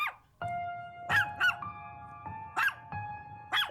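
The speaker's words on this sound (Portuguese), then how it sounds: "fez as suas cachorrinhas começarem a latir dentro de" Small dogs bark indoors in sharp yelping bursts, about four or five barks spread across a few seconds, moderately close and loud, set against a steady tonal drone.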